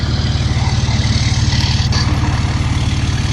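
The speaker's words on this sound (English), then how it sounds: "this is the truck running" A 2005 Ram 2500 diesel 4x4 pickup engine runs steadily nearby, with a loud, even low-pitched rumble and no talking.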